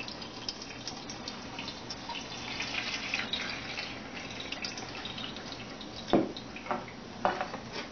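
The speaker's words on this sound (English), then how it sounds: "See, you could see the water going through" Water draining through bean sprouts in the bottom of a steamer, a steady trickling and dripping close by with a few sharper splashes near the end, no voices.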